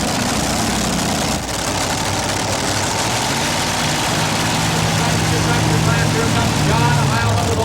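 Three big Chevy engines on a tractor-pulling tractor at a 1987 pulling event rumble and idle loudly and steadily, a thick roar with a low throbbing undertone that swells slightly toward the end.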